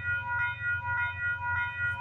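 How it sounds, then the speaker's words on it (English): CPKC eastbound train passing at Bartlett Avenue in Toronto in the early morning, a steady rumble with a repeating rhythmic thump from the wheels and a sustained tonal ring above it. "what do we got for power on this CPKC eastbound train?"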